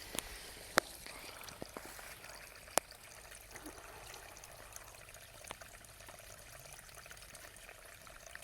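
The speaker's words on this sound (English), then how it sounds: "everyone can listen to the stream" Water trickling along an outdoor stream, a faint, steady flow with a few sharp clicks and small knocks scattered through it.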